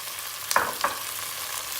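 Fresh tomatoes and peppers tipped together into tomato paste frying hard in a pot, giving two quick splashing bursts over a steady, quiet background sizzle.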